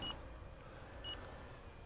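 Two short high electronic beeps, about a second apart, sound from a Durafly Spitfire 1.1 m RC plane in flight, its low battery warning, faint and distant over quiet outdoor background hiss.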